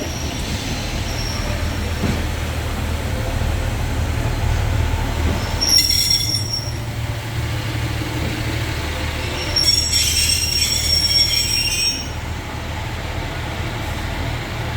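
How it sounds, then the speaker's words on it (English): A train on the East Lancashire Railway rolls past with a steady low rumble, its wheels letting out two bursts of high metallic squealing as it goes by. "Here comes my train home."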